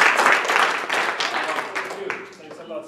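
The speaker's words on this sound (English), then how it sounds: "Now you applause." An audience applauds at the end of a talk on article writing, a short burst of clapping that starts strong and gradually thins out, with a voice speaking over the fading applause.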